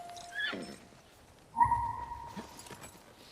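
A horse in the video game The Last of Us Part II whinnies once, followed by a short snort and shuffling movement, set against quiet background ambience.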